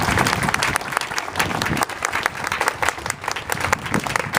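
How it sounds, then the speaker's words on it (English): Crowd at an outdoor Veterans Day parade event applauding for Sergeant Bates, a lively burst of clapping from many hands, close and uneven, continuing throughout without pause. "So having a round of applause for Sergeant Bates as well."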